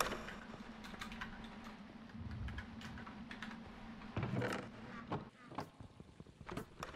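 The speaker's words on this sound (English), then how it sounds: "I heard you type in your keyboard" Keys clack irregularly on a computer keyboard in quick bursts, with occasional soft creaks and thuds nearby, no talking.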